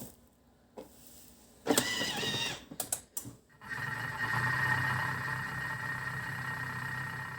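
A Thermomix food processor on its kneading setting during a cleaning cycle: a few sharp clicks and knocks, then a steady, moderately loud motor whir that holds evenly to the end, with no talking.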